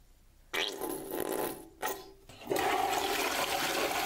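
A toilet flushes with a sudden rush of water, briefly pausing before a louder, steady swirling gush that continues to the end, close and clear.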